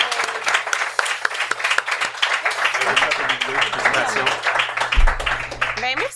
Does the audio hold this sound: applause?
yes